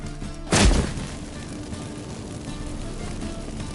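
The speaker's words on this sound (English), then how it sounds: "Get ready for some magic fireworks." In The Witcher 3, activated incense sets off magic fireworks: one sharp, loud burst early on, then a low rumbling tail fading into a quieter background.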